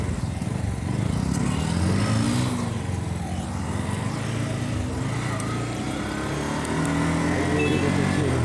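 Motorcycle engines, including an NS and a 125, run steadily during a group ride toward Atal Tunnel, a continuous loud drone with shifting engine tones, faint voices now and then.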